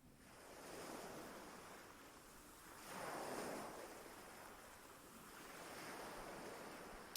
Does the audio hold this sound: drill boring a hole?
no